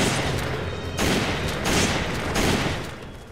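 Rapid bursts of Resident Evil 5 gunfire, loud and close, with several heavy volleys cracking in quick succession and no talking.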